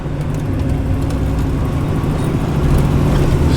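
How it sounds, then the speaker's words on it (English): A 1969 Z28 Camaro V8 runs with a steady, deep, rumbling idle, loud and continuous, swelling slightly toward the end. "V8 sound, mate, you can't beat it."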